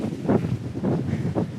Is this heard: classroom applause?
no